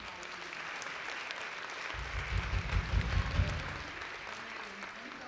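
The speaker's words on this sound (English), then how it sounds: "I want Calvary, those of you who are family, to clap for this" An Easter Sunday church congregation breaks into applause, a short swell of clapping rising in the middle and fading away, under a low murmur of room noise.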